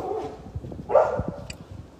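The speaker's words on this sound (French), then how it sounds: "Albert, dis à ton chien de se calmer là." A dog barks indoors in a run of several sharp, fairly close barks, loudest around the middle, with a quiet room background between them.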